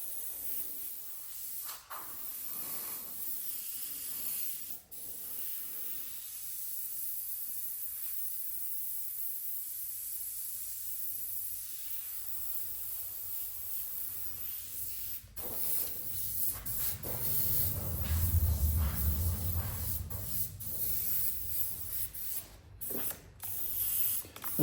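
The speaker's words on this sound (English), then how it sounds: "you just airbrush right over top of it" Airbrush spraying paint over a stencil for a realistic flame design, a steady faint hiss running throughout with a few small clicks and a low rumble building near the end.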